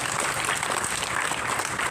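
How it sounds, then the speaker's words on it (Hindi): An audience at a public address gives a steady, dense round of applause, continuous clapping from many hands without pause, moderately distant and even in level. "जोरदार तालियां"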